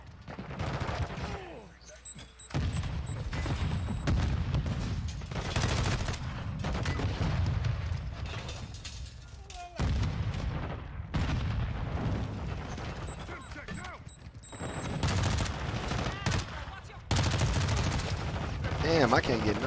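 Gunfire in a shooter video game, with sustained bursts of rapid automatic fire and booming shots filling most of the span, broken by a few short pauses, loud and close.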